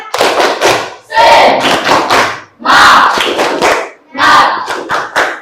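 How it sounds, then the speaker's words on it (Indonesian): A school class at SMP Negeri Binuang performs a spirit clap and chant, with loud bursts of rhythmic clapping and group shouting in several pulses, close and energetic. "Tepuk semangat."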